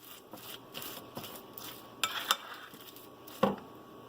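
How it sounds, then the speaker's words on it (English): Cookie dough for peanut butter banana oat cookies being stirred in a bowl, a series of soft scraping strokes with a few sharper clinks of spoon against the bowl, close and quiet. "So you're just going to get that all stirred up so all the ingredients are wet and mixed in together."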